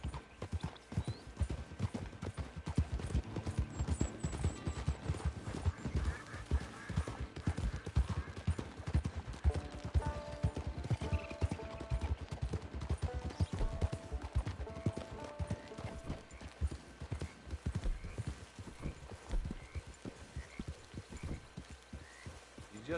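Horse hooves clip-clop steadily on the ground in the Red Dead Online video game, a continuous rhythmic trot that runs throughout, with a brief whinny and ambient music tones in the background.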